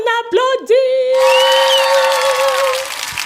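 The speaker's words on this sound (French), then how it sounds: "On applaudit!" Short burst of applause and cheering that swells in after a few spoken words and holds steady, with a voice carrying on over the top of the clapping.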